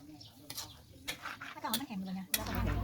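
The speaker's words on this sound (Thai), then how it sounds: "ตั้งกระทะแล้วก็ใส่หมูบดลงไปเลยค่ะ ก็คั่วไปเรื่อยๆนะคะ" A spatula clatters and scrapes against a pan in quick, uneven strokes while ground pork stir-fries with a soft sizzle, with someone talking over it.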